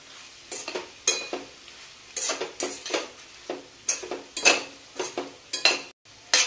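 Dry capsicum and potato sabzi with coriander being stirred in a pan: a spoon scrapes and clinks against the metal in quick, uneven strokes, close up and alone, with a light sizzle underneath.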